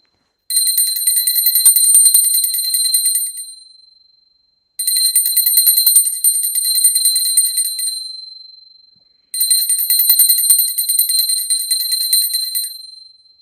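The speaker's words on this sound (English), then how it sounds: "Now, I'm going to ring a bell to offer the element of sound." A small hand bell rings in three long bursts, each a rapid bright ringing of several seconds with short gaps between them, loud and close during a puja ritual.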